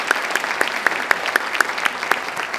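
Steady applause from a medium-sized audience at a university faculty awards convocation fills the room, clapping at a regular rhythm with a few sharper claps standing out, sounding somewhat distant.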